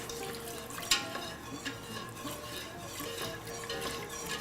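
Milk being stirred into a pumpkin lasagne sauce in a pan, heard as soft, faint scraping and swishing with one sharp utensil clink near the start.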